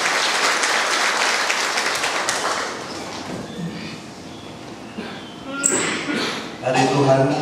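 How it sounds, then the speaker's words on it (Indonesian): A church congregation at Sunday worship applauds, a dense wash of clapping that slowly fades and turns sparse, and then voices and music come in near the end. "Kembali kita akan beri tepuk tangan kepada suara kepada Tuhan"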